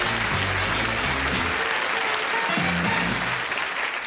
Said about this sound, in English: Round of applause for this lovely couple.